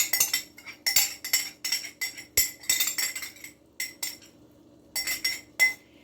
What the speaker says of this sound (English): And I'm going to stir all of this.